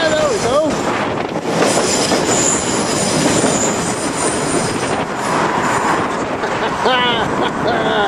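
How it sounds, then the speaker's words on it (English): A train on the Belfast–Dublin line passes right beneath the road bridge at Malone Place in Belfast, loud and close, with a constant rolling roar, rhythmic clatter over the rails and several high squeals from the wheels. "Oh, hopefully there's a train."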